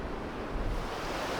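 Roaring ocean surf from a big swell blends with strong wind buffeting the microphone on a hilltop, a loud, dense, steady rush with no distinct breaks.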